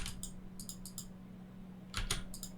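Quiet clicks of a computer keyboard as a word is typed: a few short clusters of keystrokes, faint and close, over a low steady hum.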